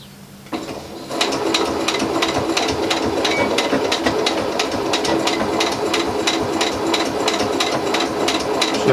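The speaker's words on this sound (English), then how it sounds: "we're sewing that fold we did on the cheek piece" Domestic sewing machine stitching a fold on the cheek piece of a reusable fabric face mask, starting up after a brief pause and then running steadily with a fast, even needle rhythm, close and loud with no talking.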